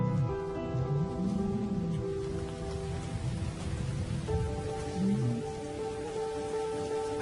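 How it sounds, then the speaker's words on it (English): Steady heavy rain pours down with low rumbles of thunder as a storm breaks over lion country in the African wild, loud and continuous throughout, with no voices. "As the storm breaks,"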